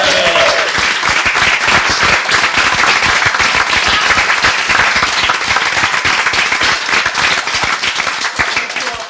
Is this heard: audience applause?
yes